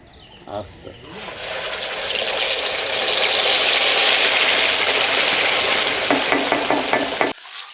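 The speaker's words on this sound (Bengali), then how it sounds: "গরম তেলে মশলা বাটা দিয়ে দিচ্ছি" Ground spice paste hits hot oil in a pan after onions have been browned, erupting into a loud, steady hiss and sizzle that holds for several seconds before cutting off abruptly.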